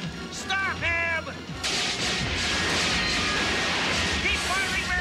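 Cartoon gunfire in a Robocop animated episode, a dense continuous barrage of shots and blasts filling the whole stretch, loud and near, with brief character voices at the start.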